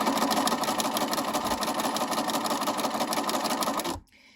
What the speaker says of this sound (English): And I'm going to sew right down the center of the twill tape.